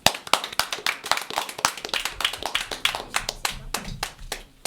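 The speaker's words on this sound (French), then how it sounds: "On applaudit." A small group of parents and children clapping at a Zoom session, a sparse irregular patter of close, individual hand claps with no talk over it.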